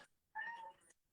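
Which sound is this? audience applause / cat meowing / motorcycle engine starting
cat meowing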